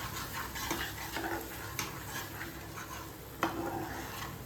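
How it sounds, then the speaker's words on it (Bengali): Cashew and onion paste is stirred into spices in a wok over a low flame for a cauliflower roast: steady scraping strokes under a soft continuous sizzle, with a few sharp clinks of the spoon against the pan. "এবার এর মধ্যে দিয়ে দেব ওই কাজু আর পেঁয়াজের পেস্টটা, দিয়ে একটু ভালো করে মশলাটার সাথে মিশিয়ে নেব"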